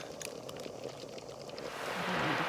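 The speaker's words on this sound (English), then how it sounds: "Now I'm gonna add a half a cup of mushroom powder to the pot." Half a cup of mushroom powder poured into a pot of keto gumbo, a soft rushing pour under faint kitchen clatter that swells slightly toward the end.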